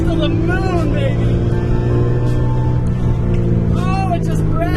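A BMW E46 M3 or C5 Corvette engine drones steadily and loudly throughout, with rising whine tones near the start and end, and voices talking over it.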